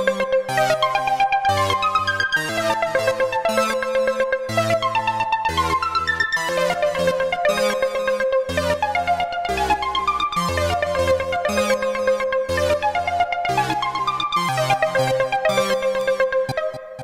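Two layered synths driven from the ChordFlow chord app on an iPad, bright plucky chord stabs over a pulsing bass line in a steady repeating pattern, loud and alone.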